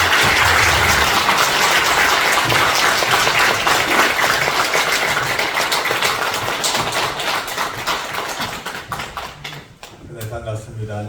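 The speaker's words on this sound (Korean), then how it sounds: "우리 박효진 장로님 오실 때 큰 박수로 환영해 주시기 바랍니다" A church congregation at a faith revival meeting applauds to welcome an elder, loud sustained clapping that fills the room for about nine seconds before thinning and dying away near the end.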